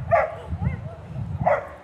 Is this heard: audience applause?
no